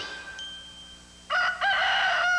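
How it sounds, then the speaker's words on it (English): A rooster crows in a short burst that rises sharply, loud and close, following a faint sustained tone. "I'm a crowing chicken. Rooster, that is."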